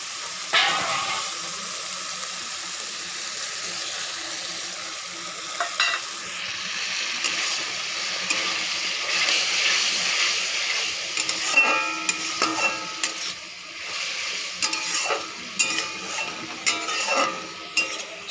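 Mustard paste sizzles loudly as it fries in a chicken curry, with repeated scraping and stirring strokes of a spatula against the pan growing busier toward the end.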